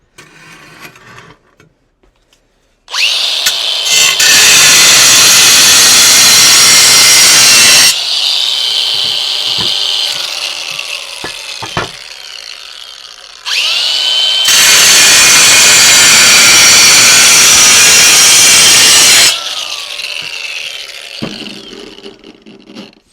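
A power tool cuts a circle in floor tile for a toilet closet flange. Two long, loud, harsh grinding passes are separated by a brief pause, and quieter scraping follows each pass.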